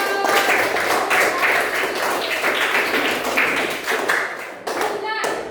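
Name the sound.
clapping for a pupil in class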